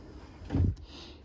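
A bonus cabinet drawer in a 2022 Forest River Salem Cruise Lite 273QBXL camping trailer slides open or shut once, a short, soft wooden rumble and thump in a quiet interior.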